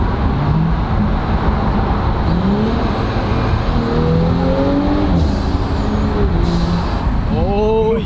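Audi B9 S4 with a newly replaced turbo driving on the road, a steady loud engine drone with rising and falling harmonic sweeps as it accelerates and shifts, heard from inside the car.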